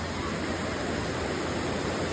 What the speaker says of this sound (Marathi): परत असा धबधबा पार करून जायचं.